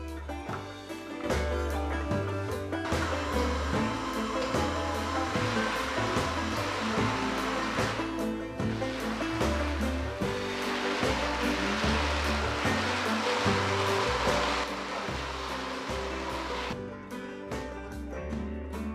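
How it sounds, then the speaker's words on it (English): A MinSu MSTC09 robot vacuum mopping and vacuuming at once gives a steady, loud whirring hum with a broad airy rush, running evenly for most of the stretch before cutting off near the end. "The MinSu can mop and vacuum at the same time."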